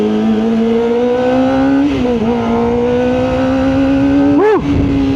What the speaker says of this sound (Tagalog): Ang sarap pakinggan ng tunog nitong ZX25R.